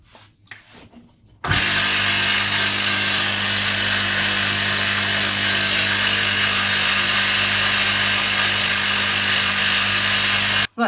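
After a brief quiet moment, a homemade horizontal drill press starts up and runs loudly and steadily with a constant whining hum, then cuts off at the end.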